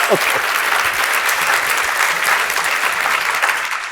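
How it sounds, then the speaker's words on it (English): Loud, sustained applause fills a breakfast event on hunger and health as the audience thanks a panel, the clapping dense and even, with a voice briefly audible at the very start. "How about a big round of applause for a wonderful panel?"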